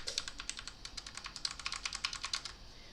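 Rapid, uneven keystrokes on a first mechanical keyboard with LED lighting modes, a close, steady clatter of sharp clicks with no voices.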